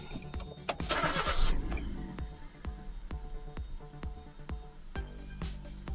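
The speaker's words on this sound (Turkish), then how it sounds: "Hala marş basıyor arkadaşlar." A car's starter motor cranks, powered by a Carpow power bank jump starter, with a loud rough burst as the engine catches, then a steady train of rapid mechanical ticks from the idling engine, recorded close by.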